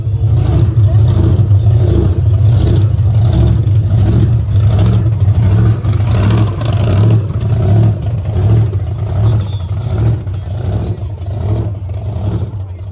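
A big-block Chevy engine with a big blower and big carburetors on a pro street car revs loudly and continuously, rising and falling with throttle blips over a steady rumbling idle.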